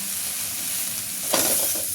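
Tempering spices for chana dal sizzle and crackle in hot oil in a wok, with a steady frying hiss that swells sharply partway through as more goes in.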